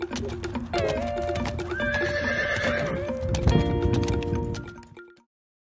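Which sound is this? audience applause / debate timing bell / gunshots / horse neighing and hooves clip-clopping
horse neighing and hooves clip-clopping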